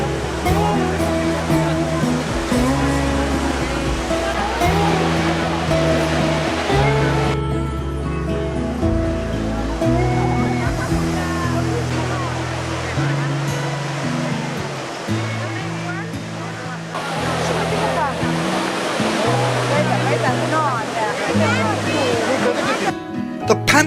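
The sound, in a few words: water splashing at the Trevi Fountain, Rome, at night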